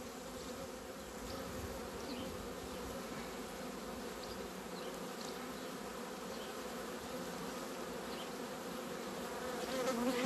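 Honey bees buzz steadily and densely around a hive frame holding pollen and honey during a beekeeping inspection, a continuous close drone that swells slightly at the end.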